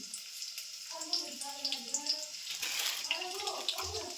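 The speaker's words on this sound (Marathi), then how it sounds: "मोहरी जिरे टाकून घेते. थोडी मोहरी टाकून घेते." Mustard and cumin seeds sizzle and crackle in hot oil, a steady close frying hiss with scattered pops, while a voice talks over it.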